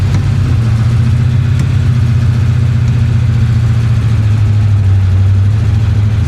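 A 1966 Chevy Impala engine pulls steadily in first gear, a loud, close, low droning hum with an even rumble and no break in tone.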